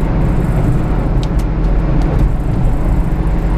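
A supercharged 1991 Subaru Sambar kei van cruising on a US highway, with a loud, constant engine drone and road roar from inside the cabin, steady throughout and with no speech.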